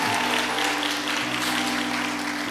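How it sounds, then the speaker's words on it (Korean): A church congregation claps during a Sunday worship service. The applause is a steady, moderate patter lasting the whole moment over a low electrical hum. "박수 칠 거면 제대로 치시고요"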